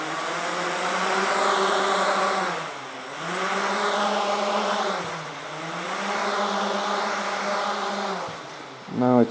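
A JJRC X1 quadcopter drone hovers with its throttle raised, giving a steady, close buzzing propeller whine whose pitch dips briefly twice and climbs sharply at the very end, with no talking.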